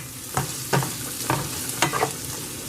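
Onions sizzle steadily in a frying pan while being stirred, with several distinct scraping strokes spaced through a continuous soft crackle, close and alone.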